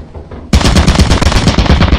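A turret machine gun in Lethal Company opens fire abruptly after a quiet moment, unleashing a loud, rapid, continuous burst of shots close by that runs to the end.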